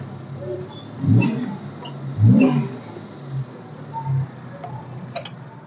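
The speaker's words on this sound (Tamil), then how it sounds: "வண்டியோட இன்ஜின் சவுண்டை எப்படி காட்டணும் அப்படிங்கிறத பார்ப்போம்" A Maruti Omni van engine runs nearby with a steady low hum, broken by two brief rev surges and a few lighter ticks near the end.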